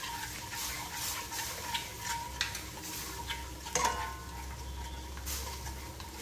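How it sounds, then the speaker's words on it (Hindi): Ghee and cold milk being mixed in a pan make a quiet, continuous stir and a faint sizzle, with a few small clicks of a spoon against the metal. "तो मैंने थोड़ा सा डाला इसमें घी और इसी में डाल दूंगी थोड़ा सा ठंडा दूध, इसको अच्छे से मिक्स कर लेंगे"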